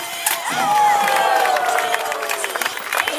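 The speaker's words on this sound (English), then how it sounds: "make some noise for Darren" A large crowd cheers and whistles loudly, with a steady roar of voices and scattered clapping building throughout, heard from close by.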